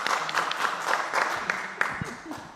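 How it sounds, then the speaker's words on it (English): A conference audience claps for the moderator at a startup event, a moderate patter of applause running under a voice talking over it. "And I ask a big applause for his moderator"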